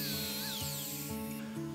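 A power tool cuts a small tab off a machined wooden roof shingle for a Japanese temple roof, giving a short steady motor whine with faint scraping under it.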